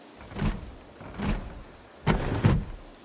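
A window being opened in the Project Zomboid video game, heard as a few separate sliding, scraping bursts with brief pauses between them, fairly quiet, the last two strokes louder and closer together.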